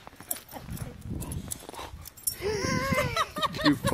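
A female puppy whines and whimpers in high, drawn-out cries in snow, mostly in the second half, over rustling and scuffling movement nearby.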